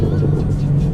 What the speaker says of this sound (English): Miller's car sounds so good.